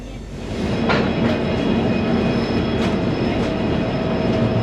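A train rolls into Badarpur station on the Agartala–New Haflong–Guwahati route with a loud, continuous rumble of wheels on rail, punctuated by clickety-clack joints and faint squeals, heard up close from on board.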